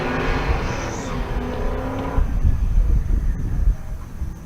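Drag racing cars, a turbo LS Camaro and a 1967 Le Mans, scream past at full throttle, the high engine wail dropping away after two seconds into a rumbling, gusty roar.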